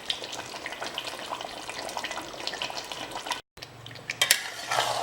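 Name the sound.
onion paste frying and being stirred for mutton korma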